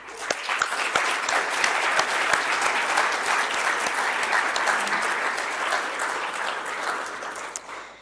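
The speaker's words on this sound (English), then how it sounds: "So a round of applause for our reviewers and track chairs," A large conference audience applauds reviewers and track chairs at a closing plenary, a full, sustained round of clapping that holds steady for about eight seconds, with no one speaking.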